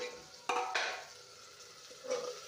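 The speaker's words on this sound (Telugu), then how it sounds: "మధ్యలో ఒకసారి తిప్పుకుందాం." A spoon stirs a chickpea curry with tomato in a pan, giving a few soft scraping and clinking strokes against the metal over a faint sizzle, with one sharp scrape near the start and another toward the end.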